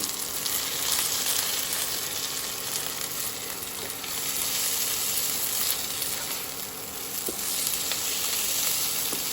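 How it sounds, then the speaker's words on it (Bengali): Spices and mutton frying in a pan give a loud, steady, close sizzle that runs unbroken throughout, with faint stirring beneath it and no voices. "মশলা ভাজা হয়ে আসছে, তার সাথে গরম মশলার ফ্লেভারটা একটা আলাদা মাত্রা যোগ করেছে।"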